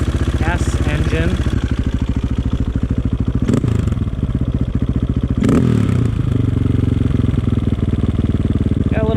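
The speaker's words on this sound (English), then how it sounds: "Nice ticky noise of this" A KTM 450 EXC dirt bike engine with a carburetor idles steadily up close with a fast mechanical ticking, briefly rising in two short revs before settling back to a rough, hanging idle.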